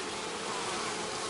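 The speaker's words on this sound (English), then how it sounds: "you can see a bee coming out" Honey bees buzz on hive comb in a dense, continuous drone, loud and close for a brief moment with no talking.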